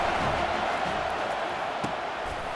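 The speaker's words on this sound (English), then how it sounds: "Decibels rising as the crowd gets behind this defense on third down" A College Football 25 stadium crowd roars steadily on third down, a thick, continuous wash of cheering with no break throughout.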